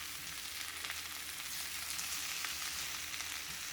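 Potatoes browning in hot oil in a pan for smothered potatoes give off a steady, close sizzle with fine crackling and no talking.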